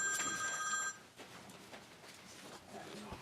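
A telephone rings in a legislative committee room, its electronic tones clear for about a second before cutting off, leaving quiet room noise with faint murmuring.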